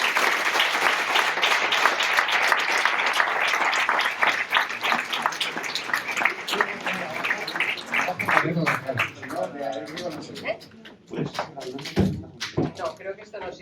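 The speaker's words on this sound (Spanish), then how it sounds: "Pido un aplauso muy fuerte." Conference audience in Pamplona gives loud, dense applause that holds for about four seconds, then thins into scattered individual claps. Voices are heard as it fades.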